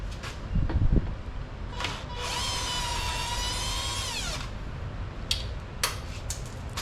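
A power tool whines for about two seconds as it backs aluminium bolts out of the shield on a Toyota Hilux, between clicks and clunks of handling.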